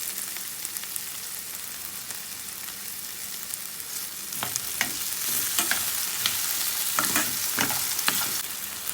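Onion and potato pieces stirred in a frying pan for aloo poha, a steady sizzle broken by scraping spatula strokes that grow busier and louder in the second half.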